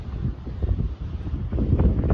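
Strong gusting wind on a beach in Bandon, Oregon buffets the microphone, swelling and dipping in heavy, rumbling surges throughout, with no voices.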